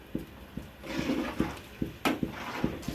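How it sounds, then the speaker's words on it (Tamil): A pot of fish curry boils on the stove, sending out a run of separate bubbling pops and splutters at an uneven pace, close by and with no voices. "நல்லா கொதிக்கட்டும் இந்த குழம்பு"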